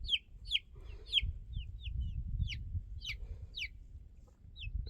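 Young chickens in a brooder give quick, high chirping peeps in a steady scattered stream, close and clear over a low rumbling background.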